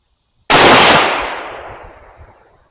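A single sharp rifle shot from a Remington 788 in .308 firing Hornady Whitetail ammunition, loud and close, with a long echoing decay rolling away for about two seconds outdoors.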